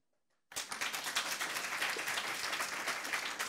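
An audience bursts into dense applause after a short silence, many hands clapping steadily and fairly close for the rest of the moment, with no one talking over it.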